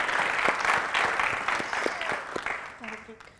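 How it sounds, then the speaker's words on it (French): Studio audience applauds during a television show, a sustained wash of clapping that thins out toward the end as a voice begins to speak. "que je vous demande d'applaudir, s'il vous plaît"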